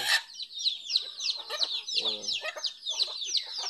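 Native chickens cluck and squawk close by in a rapid, busy run of calls, with a lower bird murmur in the middle.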